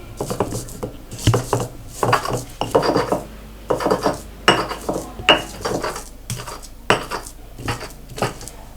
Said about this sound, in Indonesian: ini yang pertama kita haluskan mirinya dulu